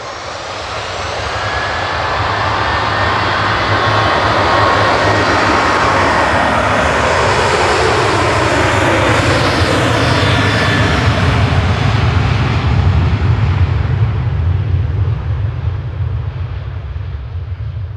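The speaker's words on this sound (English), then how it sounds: "Ryanair departing to Belfast, flight 191, 737-800" A Ryanair Boeing 737-800 climbs out of Manchester bound for Belfast, its loud jet roar swelling over the first seconds, sustained with shifting whine as it passes, then slowly easing away, with no talking.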